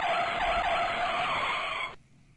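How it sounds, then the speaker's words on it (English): A car brakes hard, its tires letting out a loud, sustained skidding squeal for about two seconds before it cuts off abruptly, leaving a faint low rumble. "Hit the brakes."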